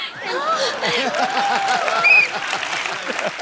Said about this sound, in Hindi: इसलिए जोरदार तालियां।